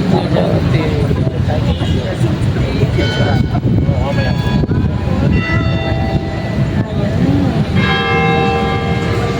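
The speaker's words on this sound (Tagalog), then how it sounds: "Punog ng kampana." Church bells ring out loudly with layered ringing tones, heard alongside people talking nearby.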